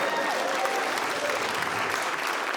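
A comedy club audience breaks into dense, steady applause, with many hands clapping together at an even level throughout.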